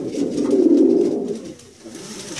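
Pigeons in a young-bird loft give a close, soft, throaty coo that swells for about a second and a half and then fades, with faint rustling afterward.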